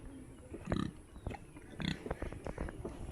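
Pigs on a village household farm in Assam grunt in a few short low bursts near the listener, with faint rustling and background noise between them.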